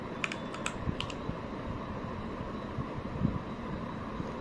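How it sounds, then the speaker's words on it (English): A few quick, faint keystrokes on a keyboard, clustered near the start, while typing a short search term, then only a low steady hum. "type AMD."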